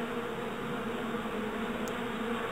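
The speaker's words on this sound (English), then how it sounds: "Now we're in this big bee's nest." Bees in a big nest in the Mata Nui Online Game drone as a dense, continuous buzz that stays loud and even throughout, with no voices over it.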